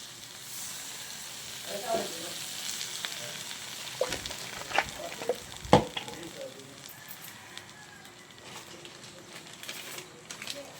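Food sizzles steadily in a pan after Sprite is poured in, a soft crackling hiss broken by a few sharper pops and stirring clinks, and faint voices come through now and then.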